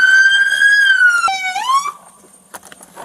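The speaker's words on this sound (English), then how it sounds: "You probably heard the siren." A police siren wails nearby, its tone sweeping down and then rising again before cutting off, leaving quiet background noise.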